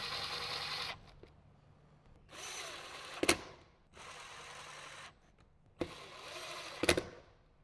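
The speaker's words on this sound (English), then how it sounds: "mount down the Bantam Overland speaker adapters with your T20" A power driver with a T20 bit runs screws down into Bantam Overland speaker adapters in a 2007–2014 Jeep JK Wrangler, making several short whirring bursts about a second long, split by quiet pauses and a few sharp clicks.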